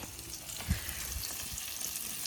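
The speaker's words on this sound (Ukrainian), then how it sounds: "Зараз дожарю рибку." Crispy fish fries over an outdoor campfire, a continuous crackling sizzle with sharp pops and one brief low thump, heard up close with no talking.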